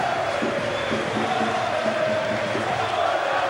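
Rugby league crowd at a Leeds v Leigh cup match at Featherstone, a steady, dense roar of many voices with a chanting, rhythmic murmur running through it.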